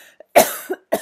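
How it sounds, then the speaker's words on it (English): A few harsh, close coughs, one strong burst followed by a smaller one and then another sharp cough in quick succession. "I haven't been coughing all day."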